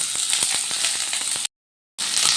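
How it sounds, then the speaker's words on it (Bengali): Sliced onions dropped into hot oil in a home kitchen, giving a steady loud sizzle with rapid crackling pops, briefly cut to silence before the frying hiss resumes. "এবার যে পেঁয়াজগুলো কেটে রেখেছিলাম, পেঁয়াজগুলো তেলের মধ্যে দিয়ে দিচ্ছি।"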